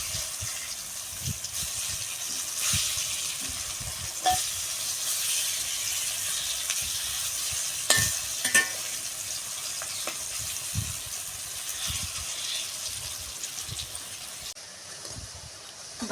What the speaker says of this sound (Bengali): এইভাবে একে একে সবগুলোকে ভেজে নেব